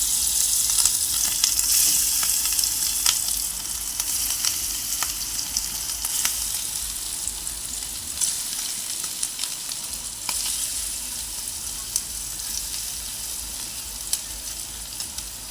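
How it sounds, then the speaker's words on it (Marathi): Kupa fish frying in hot oil, a steady dense sizzle with scattered sharp crackles and pops running throughout at close range, with no talking. "तेल तापलंय, आता आपण मासे सोडूया."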